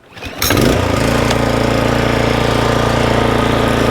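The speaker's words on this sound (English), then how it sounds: "we're gonna be mowing the lawn higher than normal" A Toro TimeMaster lawn mower engine catches after a brief pull and settles into a loud, steady, close-up drone that runs unbroken to the end.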